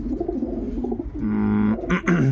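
Pigeons cooing in a breeder's loft, a steady run of low, throaty coos from several birds close by, with a brief louder flutter near the end.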